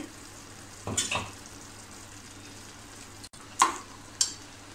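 Masala paste being sautéed in a pan, a low steady sizzle under a few sharp clinks and scrapes of a spoon stirring against the pan, close by and with no talk.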